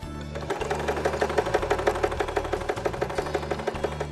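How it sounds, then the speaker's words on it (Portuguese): A sewing machine stitches a straight seam joining two fabric pieces of a small bag, its needle clattering in a fast, steady mechanical rhythm that runs loud and close throughout. "pego a máquina de costura. Na costura reta, eu vou unir essas duas partes"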